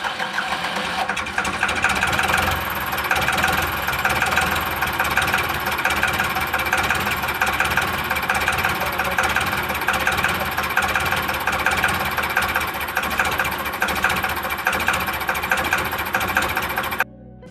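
A Ford 3600 diesel tractor engine runs steadily and loudly at an even, clattering idle for most of the stretch, then cuts off abruptly near the end.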